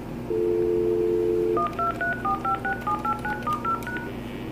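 Button presses on a Polycom SE-220 speakerphone produce DTMF tones, one longer steady tone followed by a quick series of short, evenly spaced beeps, clear and close.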